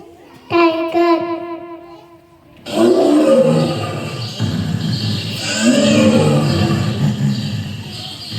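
A child mimics a tiger's roar during role play at an animal day school event, giving long, loud, rasping growls after a short spoken line, with a noisy, echoing room behind.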